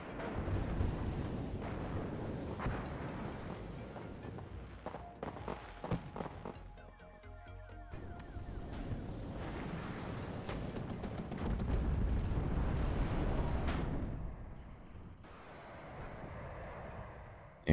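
Uragan rocket artillery explosions in the WarYes war game, a continuous barrage of booms and crackling blasts rolling on and off across the battlefield, dense and loud throughout.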